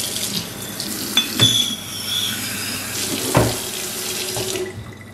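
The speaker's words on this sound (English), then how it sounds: "Now that I rinsed it out with the hot tap water" Hot water runs from a kitchen tap into a sink as a container is rinsed, a steady close splashing with a few sharp knocks and clinks of the vessel against the basin before the flow stops.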